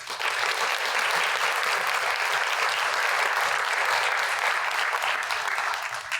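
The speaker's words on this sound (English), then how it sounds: "Let's give them a round of applause" A roomful of guests at a fundraising breakfast applauds the sponsors in a steady, even round of clapping lasting about six seconds.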